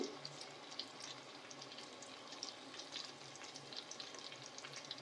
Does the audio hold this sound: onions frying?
yes